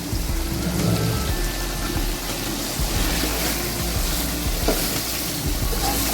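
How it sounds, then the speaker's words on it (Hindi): Chicken biryani with biryani masala fries in a pan, a steady soft sizzle with occasional stirring scrapes, close and continuous throughout. "और इसको अच्छे तरीके से भून लेते हैं"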